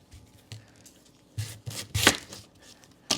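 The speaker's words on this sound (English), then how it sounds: "I'm going to cut them in half to roast in the oven" A knife cuts through whole sweet potatoes, halving them before roasting, giving a few sharp chopping and splitting thumps on a board with quiet gaps between.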